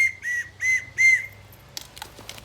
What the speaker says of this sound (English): I'm staying safe with my first aid kit and my whistle too